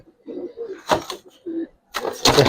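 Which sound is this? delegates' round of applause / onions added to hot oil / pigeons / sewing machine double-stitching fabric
pigeons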